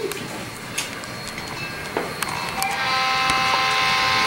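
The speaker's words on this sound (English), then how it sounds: "As the end of the train's coming up the loop here, YouTube, you can see it going over" A model train rolls around a loop on a club model railroad layout, a steady mechanical rumble with sharp clicks and rail ticks that grows busier and brighter toward the end.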